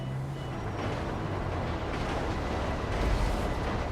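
In the Grand Theft Auto V video game, a truck pulls away during a bank heist setup, producing a thick, continuous engine rumble with a hiss like an air brake.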